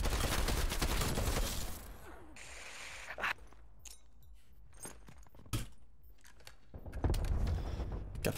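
Rapid pistol shots in a first-person shooter video game, a loud flurry of gunfire at the start, then sparse sharp cracks and mechanical clicks over quieter gaps, with another burst of shots near the end.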